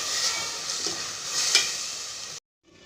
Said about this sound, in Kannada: ಹಾಕಿ ಚೆನ್ನಾಗಿ ಮಿಕ್ಸ್ ಮಾಡಿಕೊಳ್ಳಿ.